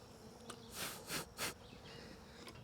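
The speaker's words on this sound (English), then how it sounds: "I got a bee that's trying to get me." Honey bees buzz around a hive while a queen is being marked and wing-clipped, with three close loud buzzing passes by one insect over a faint background hum.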